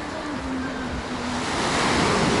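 Surf on a narrow pebble beach at Matsesta, Sochi, on the Black Sea, makes a continuous loud wash and rush of breaking waves that swells toward the end. Wind buffets the microphone throughout, and nobody speaks.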